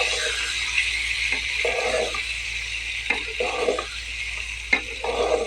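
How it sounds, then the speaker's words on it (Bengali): An egg frying in a pan for a potato and egg dish, with a steady sizzle through the whole clip and occasional soft scraping strokes of stirring, close and moderately loud. "এখন আমি ডিমটাকে ভেজে নেব বন্ধুরা, একটুখানি হালকা করে একটু ভেজে নেব।"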